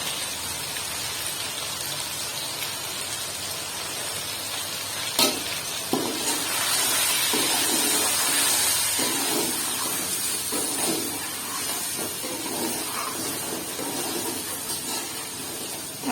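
Biryani masala, red chilli and turmeric frying in a pan, making a loud, dense, continuous sizzle like heavy rain, with a few scraping stirs partway through.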